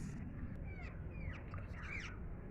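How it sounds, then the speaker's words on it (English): Parrots squawk and chatter close by in a run of sharp, repeated calls over a steady broadband background noise, with no speech over them. "The beautiful parrots are near with us."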